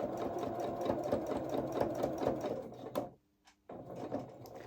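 Sewing machine topstitching small doll-sized coveralls, a rapid, steady rhythmic chatter close up that stops briefly near the end before starting again.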